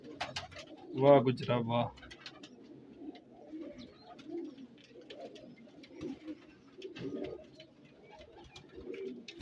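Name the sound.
pigeons cooing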